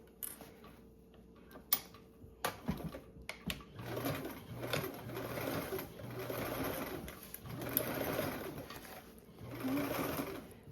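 Sewing machine stitching down the lining of a tote bag, its needle chattering in several bursts of a few seconds each, separated by brief pauses and small handling clicks, close and fairly quiet.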